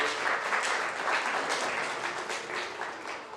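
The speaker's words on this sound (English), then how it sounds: "Let's give all these exhibitors a big round of applause for getting the champion drive here." Sustained applause from the crowd at a county fair 4-H goat show, steady and dense throughout with no break, moderately loud and heard without any talk over it.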